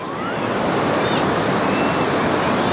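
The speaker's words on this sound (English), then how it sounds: "And the tides are quite rough, as you can see." Rough ocean surf rolls in at Miramar Beach in Goa, a loud, continuous wash of breaking waves with no talking over it.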